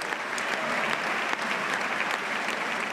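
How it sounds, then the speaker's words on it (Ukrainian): Sustained, dense applause from a large audience in the US Congress greeting Ukrainian President Petro Poroshenko, steady and loud from start to end without a break. "Перед виступом йому аплодували понад 3 хвилини."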